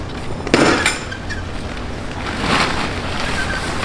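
Wind blowing outdoors while a hunting tent blind is set up, a steady rushing noise with gusts swelling near the start and again toward the end, no talking.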